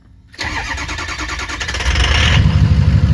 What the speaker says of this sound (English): We got Ron's truck here, South Carolina, 257, 150 miles, balanced engine. Here we go.